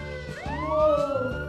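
Toy fire truck siren, a short electronic wail rising and falling once, fairly close and moderately loud.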